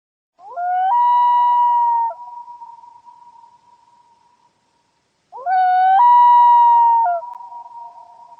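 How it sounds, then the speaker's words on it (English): A hyena gives two loud, clear whooping calls. Each rises sharply at the start, then holds a long wavering tone, with a quiet gap between them. "hyena"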